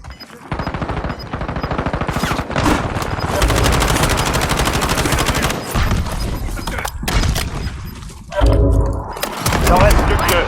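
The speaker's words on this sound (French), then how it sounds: "Il me tire dessus." Rapid bursts of automatic gunfire and single shots in a battle-royale shooter game, loud and close, with brief gaps, a heavy low boom near the end, and a player talking over the action.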